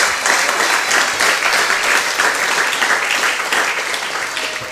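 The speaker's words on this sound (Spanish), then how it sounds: "Démosle un fuerte aplauso a nuestro Dios" Loud, sustained applause from a large church congregation, a dense steady wash of clapping that continues without a break.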